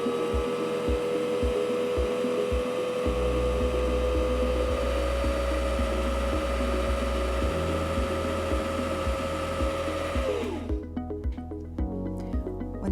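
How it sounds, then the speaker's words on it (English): A Singer C5205 sewing machine winds a bobbin with a steady, high motor whir and rhythmic mechanical ticking, close and loud, then the whine winds down and stops near the end. "You can stop winding any time when you have as much thread on your bobbin as you want"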